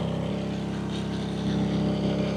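An Anker SOLIX Smart Generator 5500 runs at output, heard from about four feet away on the side away from the exhaust: a steady, even mechanical drone with a low hum, constant throughout.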